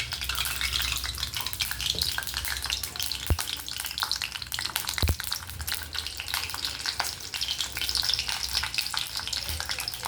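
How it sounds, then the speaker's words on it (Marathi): Cumin and mustard seeds splutter and crackle in hot oil for a tempering, a continuous sizzle with scattered sharp pops and a couple of louder knocks, close and steady. "जिरे मोहरी आता चांगली तेलामध्ये तडतडली आहे"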